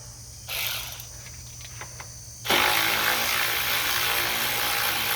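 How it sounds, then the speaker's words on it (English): A small electric ratchet runs on bolts during rear spark plug and ignition coil work on a front-wheel-drive V6, first as a brief whir, then a loud steady buzzing drone that fills the second half. "this little electric ratchet makes things a lot quicker"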